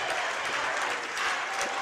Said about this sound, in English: The Borden student section cheering that I believe we have won